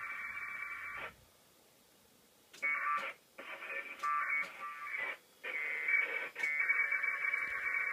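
Packet radio data bursts come in over a CB radio, loud buzzing digital tones in several separate bursts with short gaps and a quiet pause between, received close and clear.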